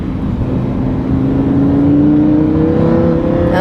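A Lamborghini Huracan engine revs up steadily under acceleration on a country road, its pitch rising smoothly into a loud, continuous roar with no talking.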